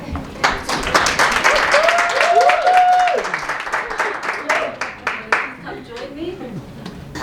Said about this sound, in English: Please, can we have a round of applause for our wonderful Mole?